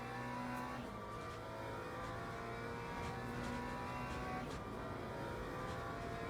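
Race car engine in the sim racing game Le Mans Ultimate holds a steady, loud drone through the last lap, with rising revs and brief shifts, running continuously without speech.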